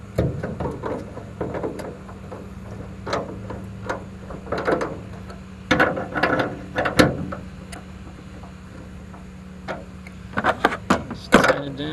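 Ratchet clicking in short bursts while bolts are tightened on a car hood, irregular mechanical clicks and clanks over a low steady hum, fairly close.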